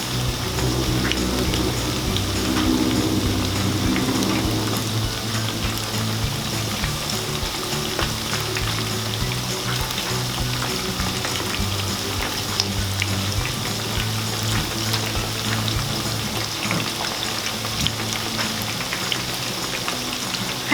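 Pork pieces fry in oil with shrimp paste over medium heat, giving a steady, dense sizzle that stays constant throughout with no talking.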